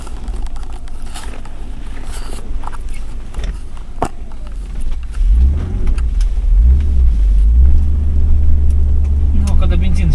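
A Mercedes-Benz W126 with a small carburetor pulls away onto a highway, its low engine rumble rising and swelling loudly in the second half while people talk over the cabin noise.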